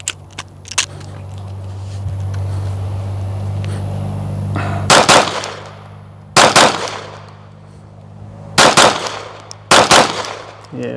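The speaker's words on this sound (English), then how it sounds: "So now we'll just shoot some doubles." Gunfire on a shooting range during a drill of doubles. Two pairs of sharp, loud, close reports ring out with a few seconds between each pair, over a low background hum.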